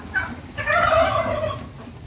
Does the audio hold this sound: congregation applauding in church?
no